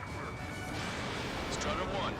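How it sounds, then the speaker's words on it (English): Missiles launch and explode in the jet combat game Ace Combat 7, giving brief whooshing bursts and crashing blasts beneath overlapping radio-style voices. "Strider 1, missile launched."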